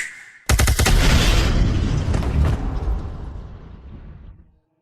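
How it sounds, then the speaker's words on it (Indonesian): A sudden loud explosion bursts in after a brief quiet lead-in, with crackling debris and a rumbling tail that slowly decays to silence over about four seconds, no voices present. "Meledak."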